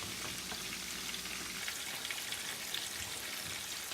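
Onions and garlic sauté in a pan with a soft, steady sizzle and faint crackle throughout, fairly quiet with no voices.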